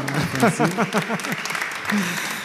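A church audience on a gospel music show claps and cheers for the pastor's wife. The applause is continuous and sits under a voice talking over it.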